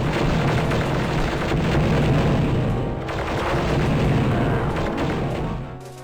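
Plasma cannons and rockets fire from Phase 2 Dark Troopers in the video game Star Wars: Dark Forces, a dense, loud, sustained barrage of booming blasts and bursts that continues with no one speaking.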